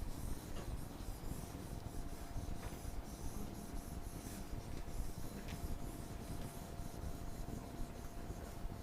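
Writing is rubbed off a classroom board with a steady, continuous scrubbing hiss, close and fairly quiet, with no talking and no clear pauses.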